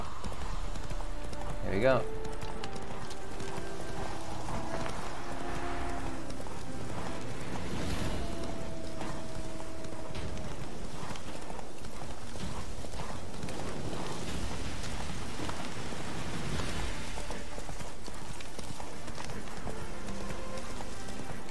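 Hooves of the horse Roach clip-clopping at a steady gait in the video game The Witcher 3, continuous throughout alongside game ambience, with someone talking over it.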